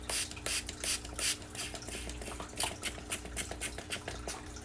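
Hand spray bottle misting water into a crested gecko cage, a rapid series of close, hissing spritzes with a clicking trigger, repeated in uneven bursts.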